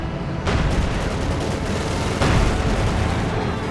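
Heavy gunfire and rumbling battle noise from a Company of Heroes 2 match fill the mix continuously. Two louder bursts of fire come in near the start and midway, loud and sustained.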